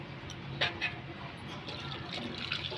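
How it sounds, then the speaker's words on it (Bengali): Water pours steadily into a pressure cooker, a continuous close splashing wash with a couple of brief metallic knocks near the start. "প্রেশারের মধ্যে দিয়ে দিলাম আরও জল দেবো"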